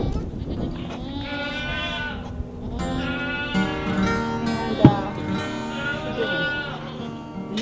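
Goats bleat at a goat dairy, several loud, wavering calls overlapping one after another close by, with a brief thump midway.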